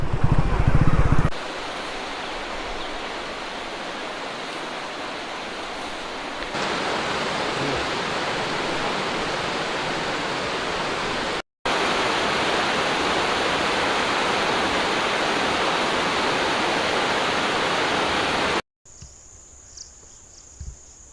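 A jungle river flows steadily, a dense and loud rushing wash of water that runs without a break, with a few cuts to quieter ambience.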